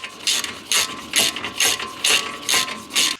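A ratchet wrench clicks in seven quick, evenly spaced bursts, close and loud, as screws on a BMW 340i front brake caliper are tightened during a brake upgrade.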